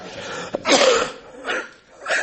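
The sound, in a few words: coughing and throat clearing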